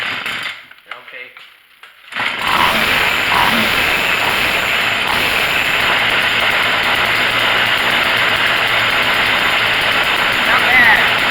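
A Craftsman chainsaw, just after carburetor tuning with the front screw set one full revolution, starts after a brief quiet moment and then runs steadily and loudly without pause, its engine drone filling the rest of the clip.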